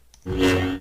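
An imported lightsaber sample used as a music source, a single humming, buzzing swell that rises quickly, holds steady and fades out within a second, close and fairly loud with no voices.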